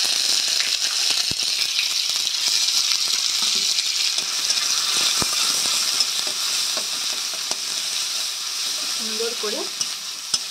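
Ginger-garlic paste with black cumin frying in hot oil gives a steady, close sizzle throughout, with scattered clicks and light stirring scrapes of a spoon in the pan.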